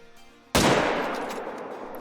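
A single sharp rifle shot in the hunting video game Call of the Wild, loud and close, with a long echoing tail ringing out over quiet outdoor ambience.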